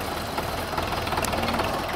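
A tractor engine runs steadily close by, a dense continuous rumble with a faint knocking texture and no clear changes, with no talk over it.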